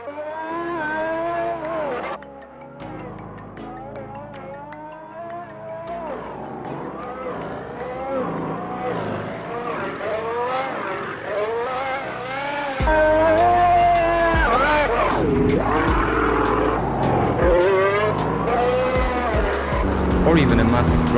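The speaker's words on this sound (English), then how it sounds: "Imagine driving a Formula 1 like this." A Formula 1 car in the racing game Automobilista 2 revs hard throughout, its engine note rising and falling through gear changes, loud and continuous, growing fuller and louder in the second half.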